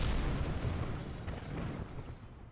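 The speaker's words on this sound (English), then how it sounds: "There was a big explosion and a lot of stuff died." An explosion in the video game Kerbal Space Program, a loud low rumbling boom that starts at full strength and slowly fades over a couple of seconds.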